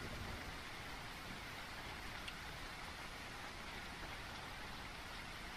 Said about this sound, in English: Oh, it's light rain.